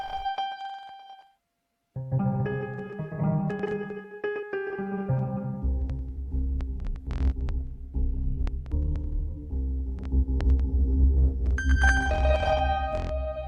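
Bright synthesizer notes sampled on an Akai Force, slightly varied on each hit, play in a stepping sequence, then a sustained low droning tone underpins repeated sharp synth hits and higher chiming tones.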